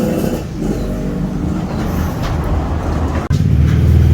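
A Yamaha RX King motorcycle, a daily rider fitted with a large 190 main jet and running rich, revs hard nearby. A loud, continuous engine roar rises and falls, with a brief cut near the end.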